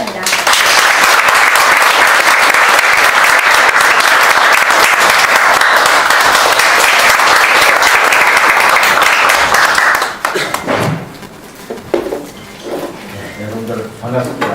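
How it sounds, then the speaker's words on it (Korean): Sustained, loud audience applause greets an introduced guest at a formal gathering in Busan, steady for about ten seconds before cutting off, followed by quieter room sounds and a voice beginning to speak. "큰 박수로 맞아주시기 바랍니다."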